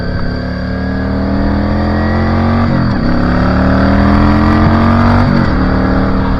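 A Yamaha V Star cruiser motorcycle rides along a road with a loud, steady engine drone, its pitch rising through gears with brief dips at shifts, plus continuous wind rush; no one speaks.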